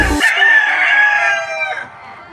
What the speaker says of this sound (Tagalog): Update lang muna tayo sa ating mga alagang manok